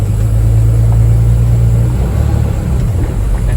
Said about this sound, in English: I'm gonna release my brake. I'm gonna put my hands real light under the steering wheel, and I'm gonna roll forward at about 5 miles per hour